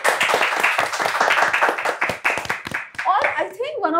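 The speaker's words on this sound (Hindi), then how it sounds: "लेडीज एंड जेंटलमैन, जोरदार तालियां हो जाए आयान और चाहत के लिए" Audience applause for Ayaan and Chahat on a Hindi TV show, dense clapping throughout with speech and a voice cutting in near the end.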